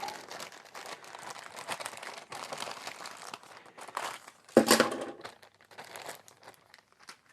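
Crinkling plastic packaging is handled close by, giving a continuous soft rustle with one sharper crackle burst partway through.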